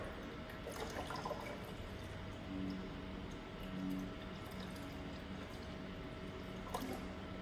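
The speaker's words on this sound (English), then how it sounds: "So I will just keep adding water." Water is poured steadily into a container on a laboratory hydrostatic force apparatus, making a faint, continuous trickling wash that barely shifts in level.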